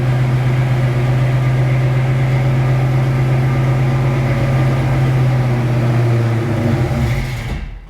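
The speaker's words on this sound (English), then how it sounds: "What happens when you go to turn the car off and it's still running?" A car engine keeps running steadily after the key is turned off, a loud, even low hum and drone that holds for several seconds before dying away abruptly at the end.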